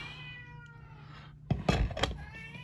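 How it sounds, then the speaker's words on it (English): A cat meows a few times at close range, with a sharp knock-like sound partway through and otherwise quiet surroundings. "that's my cat telling me it's time to feed him."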